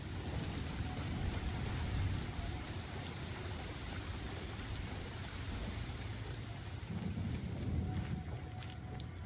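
Steady rain with rolling thunder fills a Genshin Impact game scene, a dense hiss of falling drops punctuated by low rumbles that swell and fade throughout.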